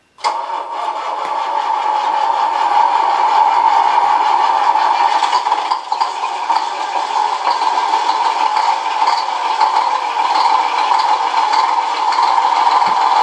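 A simulated truck engine from an RC semi-truck sound module rumbles steadily at a constant, fairly loud level after a sudden start as it drives forward, without any voices.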